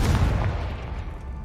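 The Confringo blasting spell in the Hogwarts Legacy video game goes off as a single deep, booming explosion, loud and close, its rumble slowly fading with no talk over it.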